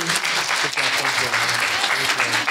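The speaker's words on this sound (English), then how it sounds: "Let's give them a great round of applause, too." An audience at a talk on cancer claps in sustained applause, fairly loud throughout, with some voices murmuring underneath.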